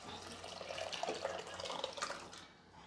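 Water poured into a pot of sambar with cooked dal, garlic, turmeric and cumin in a home kitchen, a soft steady splashing hiss lasting a few seconds, quiet and close.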